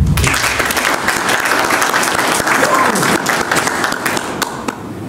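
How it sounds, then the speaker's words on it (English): Sustained applause from a large audience at the Dutch Pinball Open expo, dense steady clapping throughout with a faint murmur of voices underneath. "Please give a big applause for David Finesse."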